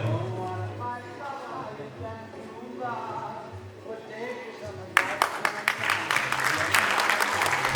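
An audience bursts into applause after a stage introduction, starting suddenly and continuing loud and dense with sharp claps; before the clapping begins, a voice speaks over a low background.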